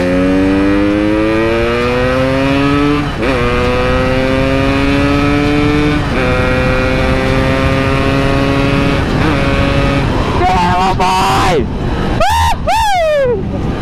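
A Yamaha RX King racing motorcycle on a test ride, its engine revving up loud and close through repeated rising gear pulls, each climb cut by a shift, then sharp high revs near the end.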